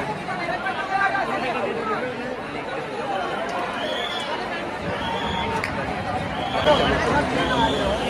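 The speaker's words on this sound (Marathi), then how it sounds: "छान गर्दी गणपतीच्या आगमन आलेली" Dense crowd chatter and hubbub at the Chinchpokli Cha Chintamani Ganesh arrival procession in Mumbai, a steady babble of many voices close around with no single sound standing out.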